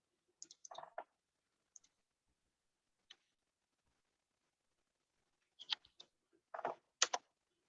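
Sparse, sharp computer mouse clicks and key taps close by, including an F4 press, a few quick clusters separated by silence.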